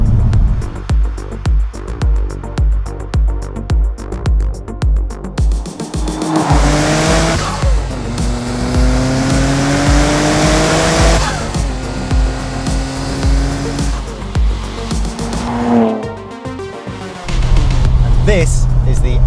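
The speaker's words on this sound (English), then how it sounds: "This is the RB26 Twin Turbo, the legendary straight six that came out in 1989 with the original groundbreaking R32 GTR." A Nissan R32 GT-R's RB26 twin-turbo straight-six engine from 1989 revs hard and close up, its pitch climbing in sustained loud pulls with a choppy idle-like rumble at the start and end.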